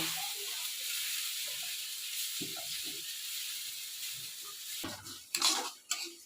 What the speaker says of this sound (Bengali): তো ডালটাকে ভেজে নেব।